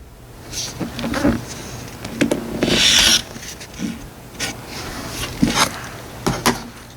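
Rotary cutter or scissors slicing through quilt fabric a quarter inch from a seam, a series of short rasping cuts and rubbing strokes, close and fairly quiet, with brief pauses between them.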